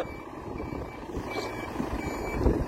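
A large truck rumbles nearby while faint, repeated reversing beeps sound over the engine.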